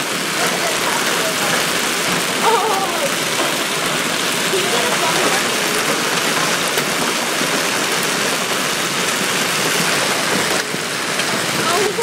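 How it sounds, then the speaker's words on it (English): Hail pours down during a Chicago summer storm, a dense, loud, continuous hiss and patter heard through an open window, with a faint voice now and then. "Well, here's more hail."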